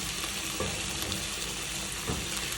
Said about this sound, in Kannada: ಬ್ರಾಕ್ಲಿ ಹಾಕ್ತೀನಿ